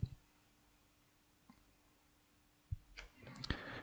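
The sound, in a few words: computer mouse click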